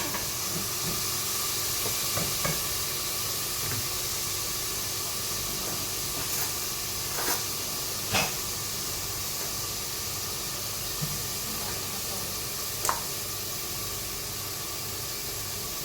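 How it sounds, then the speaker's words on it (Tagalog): Onions sizzle in a hot pan, a steady close hiss of frying that runs unbroken, with a few faint clinks and taps over it and no talking. "Una natin lagay ang ating sibuyas"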